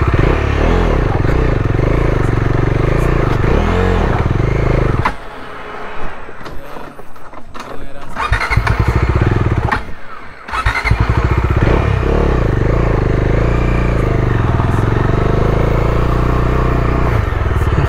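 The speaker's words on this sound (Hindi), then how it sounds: "मैं आया भाई का बाइक ऊपर ले जाने के लिए" A new motorcycle, bought three days earlier, ridden uphill, its engine droning loud and close and then dipping into clattering, scraping stretches before the steady roar returns.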